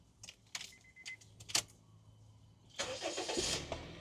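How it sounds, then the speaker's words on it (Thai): A few soft clicks and a jingle of keys, then a 2012 Honda Freed minivan engine cranks briefly and catches, settling into a steady running hum. "เดี๋ยวผมมาสตาร์ทเครื่องให้ชมกันครับผม"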